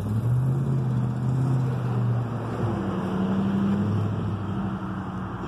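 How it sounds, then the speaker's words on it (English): A loud truck driving slowly past, its engine a steady low droning rumble with shifting pitch as it rolls by close, alone without talk. "that's a perp driving too slow with the loud truck on purpose"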